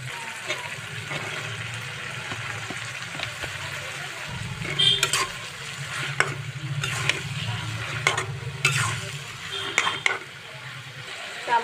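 Taro stolons going into hot oil for a hilsa fish curry, a moderate sizzle with scattered sharp crackles and stirring scrapes, fairly close and continuous throughout.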